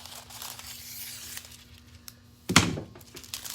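Adhesive foil strip being cut, a short sharp tearing snip near the microphone, standing out once against a quiet room background.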